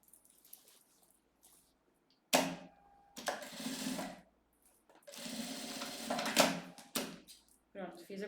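Sewing machine stitching bias binding around the edge of a heavy fabric vanity case, starting abruptly in loud bursts of rapid mechanical whirring separated by short pauses, close and clear with no talk over it.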